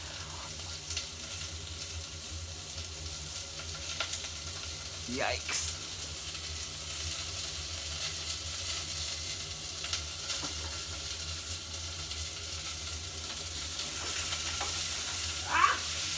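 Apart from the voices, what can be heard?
curry ingredients sizzling and being stirred in a pan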